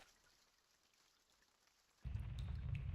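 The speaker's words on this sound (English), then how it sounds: "It's the rain! It's raining outside!" Rain in the video game Reverse 1999 starts suddenly after a quiet stretch, becoming a loud, steady downpour that fills the rest of the clip with no voices.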